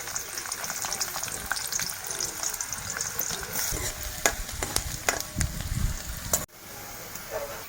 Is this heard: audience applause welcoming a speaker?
no